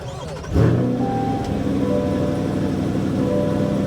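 A 2024 Chevrolet Corvette E-Ray hybrid engine starts with a sharp crank and surge, then settles into a steady, low idling hum that continues nearby.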